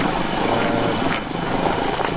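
Royal Enfield Himalayan motorcycle engine running at low revs on a summer trail ride across moorland, a steady loud drone with wind noise, continuous for the whole stretch with no talk.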